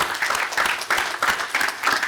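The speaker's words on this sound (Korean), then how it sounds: "박수 한번 쳐드릴까요?" A church congregation claps in brief applause, a dense, even patter of many hands close by that keeps going steadily for a couple of seconds.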